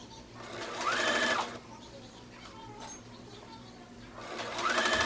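Sewing machine stitching a child's dress in short bursts, two loud whirring runs with a rising whine at the start and end, separated by quieter pauses.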